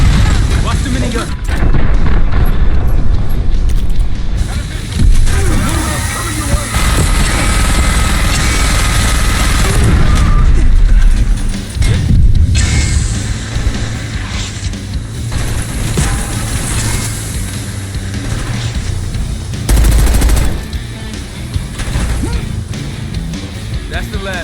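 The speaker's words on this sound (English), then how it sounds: "Watch the minigun" Minigun fire in Call of Duty Black Ops 6: a loud, continuous roar of rotary gunfire mixes with helicopter rotor thrum and heavy booms, and voices talk over the din.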